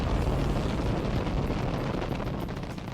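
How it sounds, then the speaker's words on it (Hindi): Explosions from a B-1B Lancer bombing run merge into a continuous, loud, rumbling roar that rolls on without distinct separate blasts and with no speech. "एक साथ बहुत सारा गोला बारूद गिरता है और फिर शुरू होते हैं एक के बाद एक कई"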